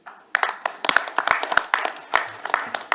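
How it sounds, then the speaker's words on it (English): Audience applause for a speaker coming to the podium at a gas-sector industry conference: scattered, uneven hand claps swelling into steady clapping across the room, with no voices over it. "Please give him a round of applause."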